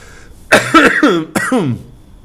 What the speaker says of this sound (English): Your teacher today is coughing a little bit.